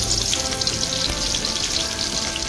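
Onions and cumin sizzle in hot oil in a wok, giving a close, steady crackling hiss that runs unbroken with no talking.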